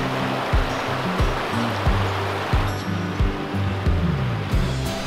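Mountain river in the Alps, swollen after winter floods, rushing steadily near the ascent to alpine pastures, with a continuous broadband wash and repeated low thumping bursts, loud and close throughout.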